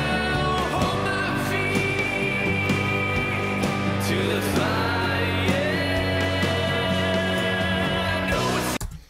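A fairly quiet, unmastered mix of a self-produced track plays steadily for about nine seconds, with full, sustained instrumentation and layered tonal parts before it cuts off at the end.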